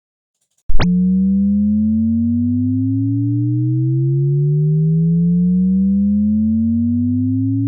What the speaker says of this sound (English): the very interesting rising sound that I want to show you in Ableton